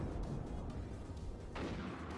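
A T-62 tank lays down covering fire in the WARNO strategy game. Heavy, rumbling cannon booms and battle noise roll continuously, with a sharper blast near the end, loud and dense, without any speech.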